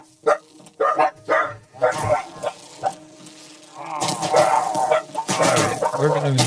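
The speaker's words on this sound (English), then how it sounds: "Now I got my dog barking" A pet dog in the Minecraft video game barks in a few short, sharp bursts near the start, followed by denser, louder game noise filling the rest of the stretch.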